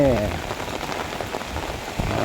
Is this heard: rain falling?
yes